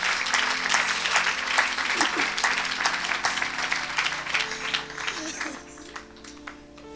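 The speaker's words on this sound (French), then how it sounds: "Est-ce qu'on peut acclamer pour Jésus-Christ?" A church congregation at a Saturday service applauds and cheers for Jesus Christ, sustained dense clapping from a crowd filling the room, loud and continuous, with voices shouting over it before it tapers off.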